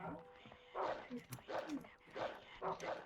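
Dog barking in the PS2 video game Rule of Rose, several bursts of yips and barks spread across a few seconds, moderately loud over game ambience, with a voice speaking in between.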